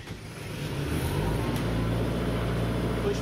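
Rotair air compressor starting up indoors, a low engine rumble building within the first second and then holding a steady, moderately loud drone.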